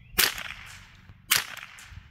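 Two suppressed .22LR rifle shots with Aguila subsonic ammunition, each a sharp, quiet crack followed by a brief mechanical clatter, spaced about a second apart with no talk.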